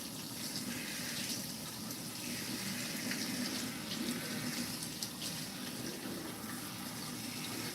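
Water runs steadily from a tap, rinsing soap out of a customer's hair during a wash at a barbershop haircut, a continuous close hiss that keeps a fairly even level throughout.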